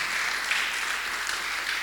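A church congregation claps for the Lord during a service, a brief, even burst of applause from many hands, moderately loud and without speech.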